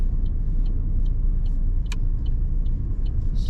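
A car engine accelerating gently during a driving lesson: a steady, loud low rumble from inside the cabin, with faint regular ticking above it and one brief click.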